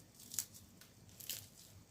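Two quiet crunchy bites into a tuna and egg mtabak, a crisp flour-dough pastry, each a short crackling burst about a second apart against a faint hushed background.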